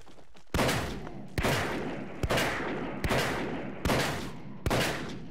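Gunfire in the video game Paint the Town Red: six loud, separate shots at regular intervals of just under a second, each with a sharp attack and a long decaying reverberant tail.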